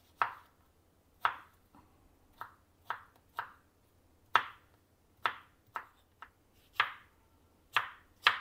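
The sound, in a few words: knife chopping strawberries into larger pieces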